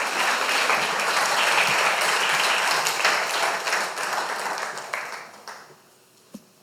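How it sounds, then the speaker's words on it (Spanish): A church congregation breaks into sustained applause during a Spanish-language sermon, a full wash of clapping that holds strong for several seconds before thinning and fading out, with one last sharp clap near the end. "Le damos un aplauso al Señor."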